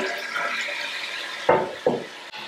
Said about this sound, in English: I'm going to flush the toilet and then immediately take off the tank cover.